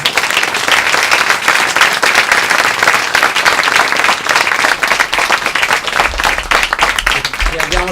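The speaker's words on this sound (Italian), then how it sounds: "Un applauso." An audience at the Cabudanne de sos Poetas poetry festival in Seneghe applauds to welcome the writer Paolo Nori, dense clapping running steadily and loudly throughout, with some low rumble near the end.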